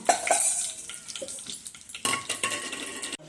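Stuffed bitter gourds frying in about three spoons of oil in a pan, with close stirring, clinks of a utensil against the pan and a steady sizzle, with no talking.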